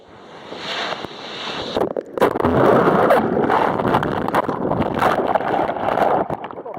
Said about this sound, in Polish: Z wiatrem dobrze fale